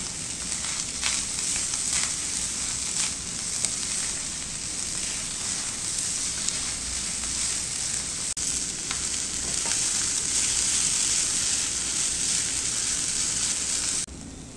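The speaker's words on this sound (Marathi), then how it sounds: "इथे मी 2 वाट्या ओलं खोबरं घेतलंय। एक 2 मिनिटं ह्याला परतून घेऊया।" Two cups of freshly grated coconut sauté in a pan for dry-fruit coconut karanji, producing a dense, continuous sizzle with occasional spatula scrapes throughout, steady and close, with no talking.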